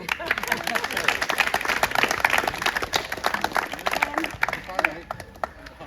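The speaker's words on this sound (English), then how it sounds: "I think you all deserve another round of applause" Volunteers and audience at a community gathering give a round of applause, lively close clapping from many hands with scattered voices mixed in, continuing steadily before tapering off near the end.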